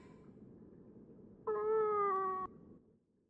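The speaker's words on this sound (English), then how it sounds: "It's the same cat from before." Single drawn-out cat meow in the video game Fragile Dreams: Farewell Ruins of the Moon, clear and close for about a second over a faint low background hum.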